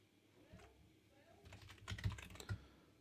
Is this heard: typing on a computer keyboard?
yes